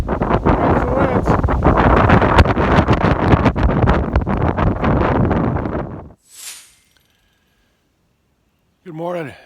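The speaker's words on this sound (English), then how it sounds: "Comes the winds." Strong wind on a hiking trail roars and buffets loudly against the microphone for about six seconds, then drops away to near silence with a couple of faint brief sounds.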